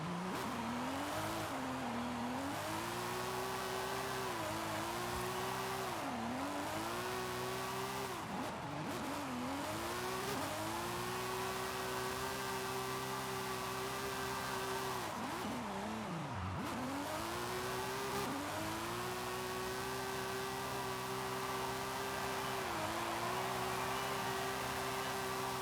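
A 1997 Lexus SC300 drift build in Forza Horizon 5, its engine droning steadily with repeated revs and dips while tires squeal in long continuous skids, loud throughout.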